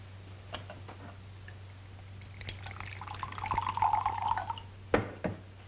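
Water is poured into a vessel with a rising trickling gurgle that swells midway, preceded by scattered drips and soft clicks and ending with a couple of sharper knocks, all against a quiet indoor hum.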